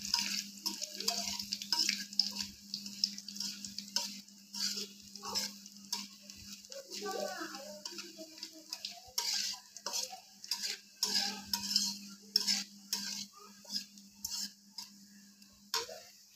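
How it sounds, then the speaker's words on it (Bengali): Panch phoron, the Bengali five-spice mix, sizzles steadily in hot oil while being tempered for a home-style mixed vegetable curry, with scattered ticks and light clinks of stirring throughout. "তার সাথে দিচ্ছি বেশ কিছুটা ডাল মশলা বা পাঁচফোড়ন। এটাকে একটু ভালোভাবে বাগারের জন্য তৈরি করে নিচ্ছি।"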